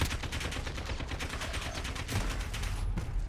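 Rapid automatic AK rifle fire in a shooter video game, a dense burst of close, loud shots rattling steadily for the whole stretch with heavier thumps near the end.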